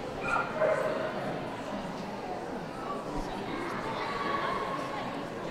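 Long coat Chihuahuas yip and bark faintly in the background at a championship dog show toy group ring, scattered high-pitched yaps under steady crowd murmur.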